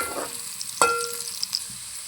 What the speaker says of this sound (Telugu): ఆయిల్ వేడైన తర్వాత కొంచెం పసుపు వీటిని అయితే ఒక టూ మినిట్స్ అయితే ఫ్రై చేసుకోవాలి